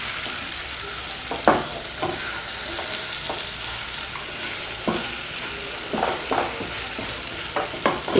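Green egg fry cooks in a covered pan over a low flame, giving a steady soft sizzle with scattered light clicks and pops, close by and without talk.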